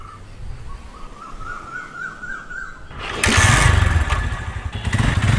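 A motorcycle engine idles quietly with birds chirping, then revs up loudly around the midpoint and keeps running strongly nearby as a test ride begins outdoors.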